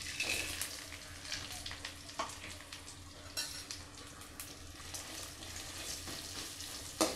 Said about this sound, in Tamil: இதேப்போ தேங்காய், கொத்தமல்லி, இந்த மிளகாத்தூள் எல்லாத்தையும் இப்போ நான் இதை வறுக்க போகிறேன்.